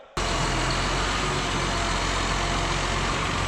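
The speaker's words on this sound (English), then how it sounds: "I'm just gonna back the tractor up a little bit" A tractor engine starts up abruptly and runs loud and steady, a low rumbling drone close by that continues without a break.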